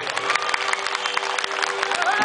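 Audience clapping and cheering at a live folk song performance, a dense wash of applause with crowd voices mixed in.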